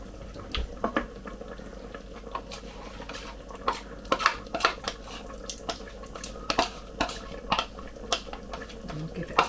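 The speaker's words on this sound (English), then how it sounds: "Give it a jolly good stir." Beef and oxtail stew being stirred in a casserole pot, with a spoon scraping and clinking against the sides in irregular strokes over a soft simmering bubble.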